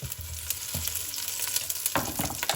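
Food stirred around in a frying pan with a little oil, giving a soft sizzle under close scraping strokes that grow busier toward the end, with no talk.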